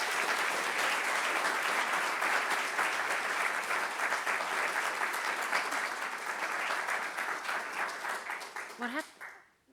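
An audience applauds Sweden's ambassador at a public lecture, with steady, dense clapping from a full room that holds for several seconds, then tapers off and stops.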